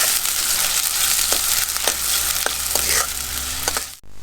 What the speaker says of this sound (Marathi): आता पहिला कांदा टाकते परतायला. छान परतून घेऊयात.